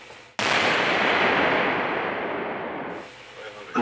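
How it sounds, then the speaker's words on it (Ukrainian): One sudden, loud artillery boom in the Serebryansky forest, Donbas, that rolls on and slowly fades over several seconds, heard alone without talk. "артилерія працює чергами"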